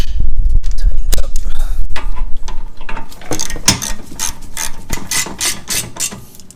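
A ratchet tightens the bolts of a TruHart rear camber kit on an Integra. It makes loud, close bursts of rapid clicking that speed up into quick repeated strokes, with no talk.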